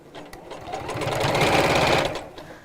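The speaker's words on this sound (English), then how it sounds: "Let's just top stitch." Close and loud, a sewing machine runs a line of top stitching, its rapid needle rhythm swelling in the middle and easing off toward the end, with no clear speech over it.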